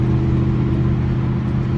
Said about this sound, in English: I'm on the freeway headed to the south side of San Antonio to a junkyard.